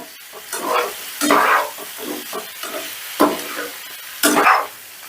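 Onion petals with a pinch of salt are stirred in a pan, a utensil scraping in repeated strokes over a light, steady sizzle, close and fairly loud, with no talking.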